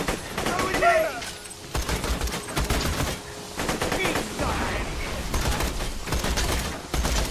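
Rapid gunfire in the shooter video game Borderlands 2, dense automatic bursts and single shots running almost nonstop, with people talking over the shooting.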